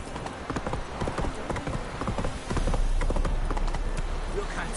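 Roach, the horse in The Witcher 3 video game, trots with steady clip-clop hoofbeats close by, over a rumbling game soundscape that grows louder halfway through; no one talks.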